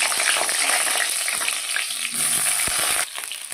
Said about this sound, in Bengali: গরম হয়ে গেছে, এবার পটলগুলো আমি ভাজবো।